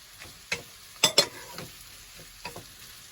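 Chopped onions and spring onions sizzle in a hot pan, broken by several sharp scraping stir strokes, close and fairly quiet, with no talk.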